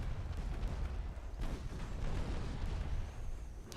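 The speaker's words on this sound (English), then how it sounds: "Just firing up the bow of the enemy ship." Naval guns boom in Ultimate Admiral: Dreadnoughts as warships fire at an enemy ship, a steady low rumble of distant salvos rolling on without pause and ending in a sharper crack.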